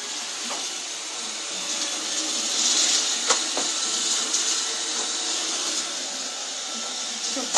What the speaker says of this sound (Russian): Вон пылесос едет.